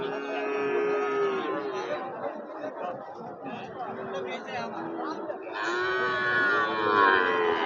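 Cattle moo loudly and close by at a border-area cattle market selling small Sahiwal bulls, with long drawn-out calls at the start and again near the end over steady crowd chatter and people talking.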